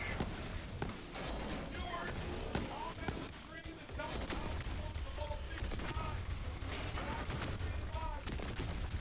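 Rapid gunfire in the looter-shooter Borderlands 3, a steady stream of sharp shots and impacts for several seconds over constant game noise, with a voice talking underneath.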